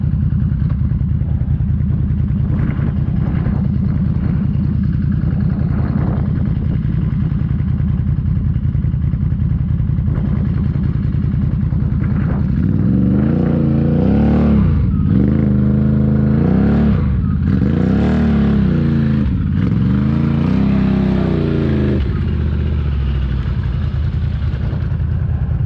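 A stuck vehicle's engine idles loudly, then revs hard in repeated surging snarls during the second half, rising and falling in pitch against a clattering background.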